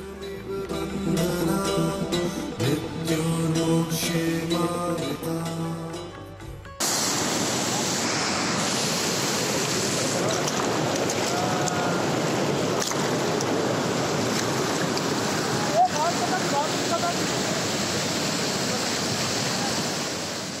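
A fast, cold mountain river rushes below Rambara bridge on the Kedarnath trek, a loud, steady roar of churning water that takes over after a few seconds of music.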